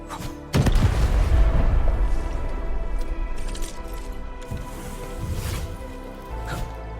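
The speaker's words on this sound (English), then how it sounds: "I give that explosion a 10 out of 10." A loud explosion in the video game Arknights: Endfield, a heavy boom that breaks out about half a second in and then rumbles and crackles on for several seconds, with debris and scattered impacts and no talk over it.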